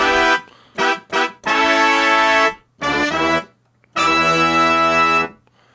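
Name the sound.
synthesized brass keyboard patch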